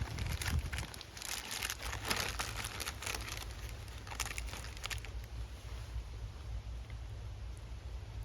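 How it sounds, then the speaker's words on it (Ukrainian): A plastic American MRE ration packet is torn open, giving bursts of crinkling and rustling that are busiest in the first half and then settle into softer handling sounds. "Відкриваю пакет, а тут ще один пакет."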